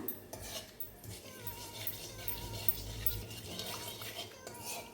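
Spiced fish curry of katla in mustard gravy being stirred in a pan, a utensil scraping and clinking against the metal in quiet, uneven strokes under faint background chatter.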